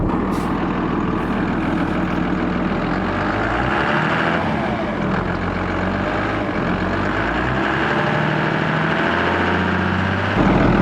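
A school bus engine runs loud and steady at close range while the bus reverses, a deep continuous diesel rumble with no pause throughout.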